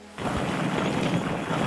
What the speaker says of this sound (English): I'm going to add a second waterfall down the south side here.